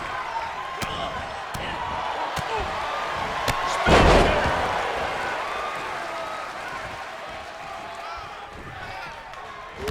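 A heavy lariat slam lands in the WWE 2K23 wrestling video game, one sharp impact rising over a steady roaring arena crowd, with commentary voices running underneath.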